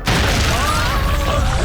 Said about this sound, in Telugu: బ్లాస్ట్ అయినట్టుంది, రండి వెళ్దాం.